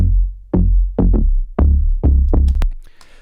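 Deep synth bass plucks in a short rhythmic pattern, each note hitting hard and decaying quickly, ending with a few higher clicks.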